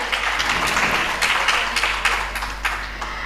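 An audience at a Marathi literary conference in Mumbai claps to welcome guests onto the stage, a loud, dense burst of applause with sharp overlapping hand claps that holds steady for a few seconds.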